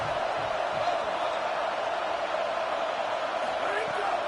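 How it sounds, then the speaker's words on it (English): Stadium crowd at a football game, a dense, steady roar filling the whole stretch without letup, loud and continuous with no single voices standing out. "This crowd trying to make life miserable for this offense."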